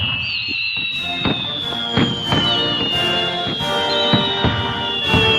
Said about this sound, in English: So can we hear some fireworks, please?